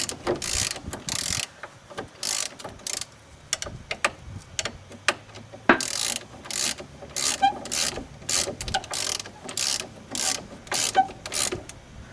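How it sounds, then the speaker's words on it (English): A wrench ratchets in quick bursts of clicks while a strut nut is snugged up on a 2001 Dodge Caravan Sport during strut replacement, with short pauses between runs of close, sharp mechanical ticking. "you're going to need your 18mm wrench on the back side to hold that in place so that you're turning the nut and not the bolt"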